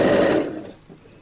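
A sewing machine stitches a Christmas tree skirt in one short, close whirring run that fades out after a moment.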